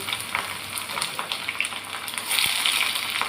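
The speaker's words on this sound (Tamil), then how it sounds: "எண்ணெய் வேறு சூடாயிடுச்சு. கடுகு, வெங்காயம்" Mustard seeds and onion frying in hot oil in a kadai, a loud steady sizzle with crackling and popping throughout, close up and alone.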